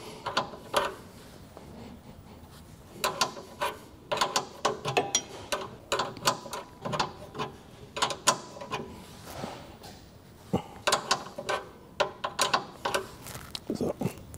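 Belt tension on a Twin Busch tyre changer is adjusted with a hand tool, giving irregular bursts of close mechanical ratcheting and clicking with brief pauses between turns.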